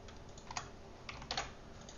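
Typing on a computer keyboard while compiling Flutter app code, a quiet, steady patter of key clicks with a few sharper taps, heard alone and close.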